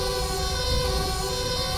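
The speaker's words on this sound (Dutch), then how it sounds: "Waardoor dus de sirene continu aan blijft staan." An ambulance siren wails continuously in the video game GTA 5, loud and close, with steady engine noise underneath.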